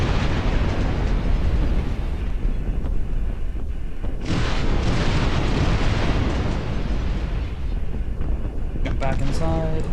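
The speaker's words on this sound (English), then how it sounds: "we're in range of their artillery. Which is that thing right there. It hurls rocks at us." Enemy artillery hurling rocks in the real-time strategy game Dust Front RTS, heard as dense, continuous booming impacts and rumble throughout, with louder bursts midway, under game noise and talk.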